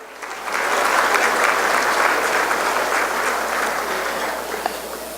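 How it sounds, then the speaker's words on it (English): Sustained, loud applause fills the hall as a gala audience claps for donors at a charity fundraiser. The clapping swells quickly after a quiet start and holds as an even, dense roar. "So give a round of applause to all our donors."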